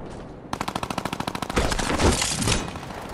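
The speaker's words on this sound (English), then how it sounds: "instant reload that minigun" A minigun fires in a video game, starting as a rapid, even burst of loud close shots that then blurs into a sustained roar of gunfire lasting about two seconds before easing off.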